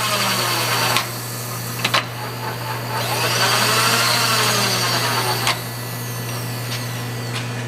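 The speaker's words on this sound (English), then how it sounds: "It also has a Servo variable speed power table feed, which works. Speeds up, slows down, reverse, speeds up, slows down, rapid." Servo power table feed on a Lagun FTV-1S vertical milling machine running with a steady motor whine over a constant hum, its pitch rising and falling as speed changes, with a few sharp clicks as the feed switches direction.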